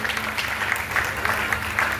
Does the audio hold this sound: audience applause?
yes